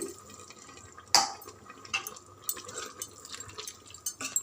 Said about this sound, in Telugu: ఇప్పుడు ఒక పెద్ద గ్లాసు వాటర్ పోసి